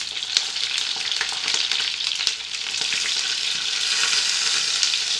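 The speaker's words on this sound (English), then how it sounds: "Cook these sausages on medium heat" Sausages fry in a pan over medium heat, giving a loud, continuous crackling sizzle with occasional pops and no one speaking.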